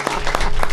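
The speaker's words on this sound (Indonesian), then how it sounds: "Tepuk tangan" Studio audience clapping on a television program, a brief burst of applause with a few distinct claps standing out, close and fairly loud.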